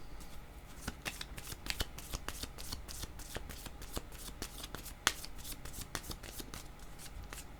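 Tarot cards being shuffled by hand before another card is drawn, a steady run of crisp riffling flicks and taps with one sharper snap midway, close and fairly quiet, with no talking.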